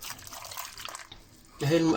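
Water poured into a pot of stuffed zucchini cooking with vegetable soup, a short splashing fill at the end after quieter kitchen sounds, with people talking nearby.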